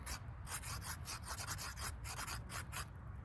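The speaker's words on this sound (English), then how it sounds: "what happens when you rub them together?" Two stones rubbed together in a steady, gritty scraping rhythm, close and soft, with no voices.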